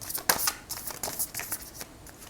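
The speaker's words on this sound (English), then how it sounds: "I'm going to do the complete shuffle." A deck of tarot cards is shuffled during a reading, producing soft, quick riffling and flicking bursts at close range, fairly quiet, with no talking over it.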